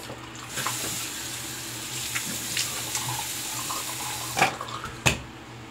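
Water runs from a tap into a sink in a steady, moderate splashing stream, with a few sharper splashes and clunks of hands or objects near the end and no talking.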